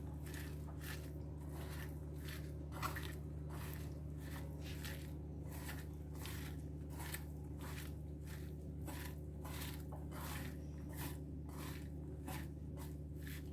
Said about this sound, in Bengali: এবার এটাকে ভালো করে হাতের সাহায্যে মাখিয়ে নেব।